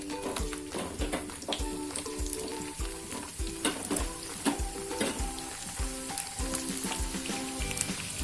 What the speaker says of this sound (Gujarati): હવે આપણે બટેટા આપણે જે કટ કર્યા છે તે આપણે સેલો ફ્રાય કરી લેશું.